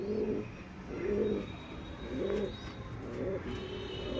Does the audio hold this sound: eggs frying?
no